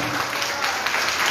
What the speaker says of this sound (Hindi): और इतनी जोरदार तालियां मत बजाओ कि आवाजें नहीं आई